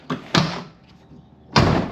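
The door of a Ford Dentside truck, held back by a stiff, thick seal, is pushed shut in three dull, close thumps: two quick ones, then a pause and a third.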